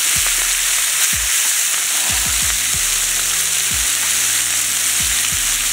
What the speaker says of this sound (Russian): Он жарится очень быстро.